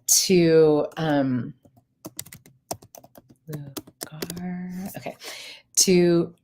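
Quick bursts of computer keyboard typing, a run of irregular keystroke clicks close by, with a person talking before and after the keys.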